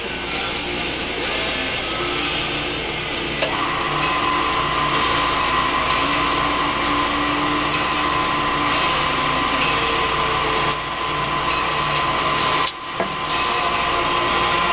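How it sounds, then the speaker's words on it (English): A home well pump runs steadily and fairly loud as a continuous mechanical drone, with a brief click and short dip in the hum near the end. "sorry about the well pump"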